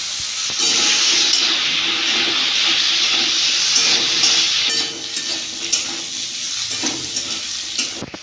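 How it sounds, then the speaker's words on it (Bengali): Cut potatoes fry in mustard oil in a kadai with a loud, continuous sizzle and hiss. The sizzle stays steady for the first few seconds, then softens and turns crackly, with no talking. "আলুগুলো কেটে রেখে দিয়েছিলাম ভেজে নেবো"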